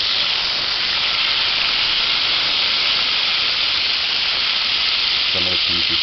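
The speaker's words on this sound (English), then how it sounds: "After 2 to 3 more minutes, you just want to fry it." Brown stewed chicken fries in hot oil with a steady, loud, unbroken hiss and sizzle throughout, and a brief low thump near the end.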